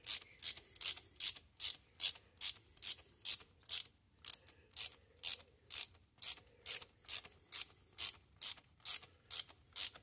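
A socket ratchet tightens bolts on a Stihl MS362 C-M chainsaw, clicking in a fast, even rhythm of short bursts, close and clear, with no talking.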